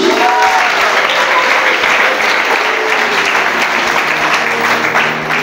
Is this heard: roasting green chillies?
no